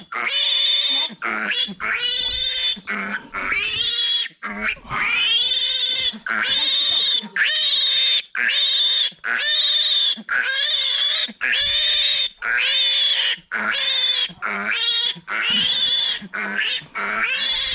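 A five-day-old piglet squeals loudly and continuously while held for an iron (Suiferovit) injection on a farm, piercing repeated shrieks close up with brief gaps between cries.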